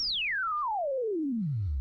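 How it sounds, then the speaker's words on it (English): A pure sine tone driven by an engine RPM slider in automotive sound design software glides smoothly downward from a high whistle to a low hum over about two seconds, clean and alone. "we should be able to hear the sine wave follow the frequency, the RPM"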